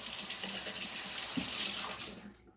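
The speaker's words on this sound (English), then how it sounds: "Rinse it off." Water runs steadily from a tap as something is rinsed under it, a continuous close splashing hiss that cuts off abruptly near the end, with no talking.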